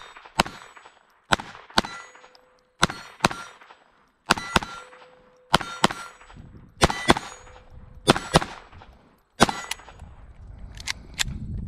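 Remington Golden Bullet .22 rounds fired from a Walther P22 pistol ring off steel targets: about sixteen sharp shots, each followed by a bright metallic clang, coming in small quick groups with short pauses, loud and with no talking.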